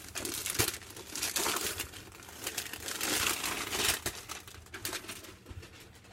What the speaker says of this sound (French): j'arrache le papier